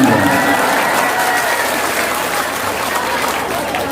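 Applause from an audience at a religious sermon gathering, a dense, steady wash of clapping from many hands that fades slightly over a few seconds.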